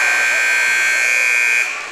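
A basketball game buzzer marks halftime at a high school game between the Columbus Titans and Frontenac Raiders, sounding as one loud, steady electronic tone held for about a second and a half before it fades.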